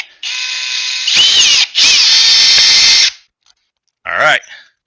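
A Milwaukee hammer drill runs in drill mode at speed 1 on a full charge, a loud steady high-pitched whine that briefly dips and revs, stops, then returns in a short final burst.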